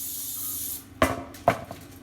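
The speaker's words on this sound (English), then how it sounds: "I need some cooking spray just so it doesn't stick." A can of cooking spray hisses onto a baking tray for a pumpkin pie, one steady spray followed by a few sharp knocks and clatters of handling nearby.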